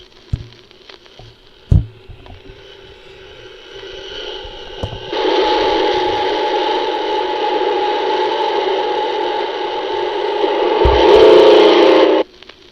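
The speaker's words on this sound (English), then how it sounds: "Here is a diamond drill going through the rocks." A loud, steady grinding whir builds and holds as a diamond drill bores through rock underground in a mine. Scattered knocks come before it, and it ends abruptly.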